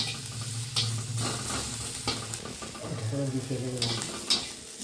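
Green chillies fry in hot oil in a pan with a steady, close sizzle, and light stirring scrapes sound over it throughout.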